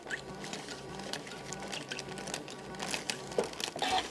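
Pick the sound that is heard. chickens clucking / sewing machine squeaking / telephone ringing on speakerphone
sewing machine squeaking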